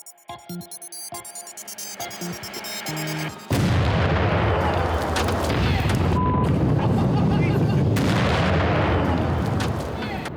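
Loud explosions set off at a family homestead in Alaska, with sharp booms and blasts breaking in after a quieter opening, followed by sustained roaring noise and rumble that stays loud to the end.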